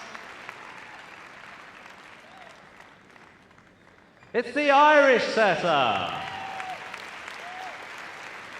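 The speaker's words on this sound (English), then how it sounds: "A big round of applause to the other competitors in this final" Someone speaks briefly over a quiet room at the Crufts 2012 dog show final, then a burst of loud applause and cheering breaks out and slowly fades.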